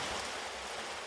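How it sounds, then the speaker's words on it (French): Heavy rain pouring down in a steady, dense hiss, fairly faint and even throughout with no voices. "la pluie se met à tomber à plein seau"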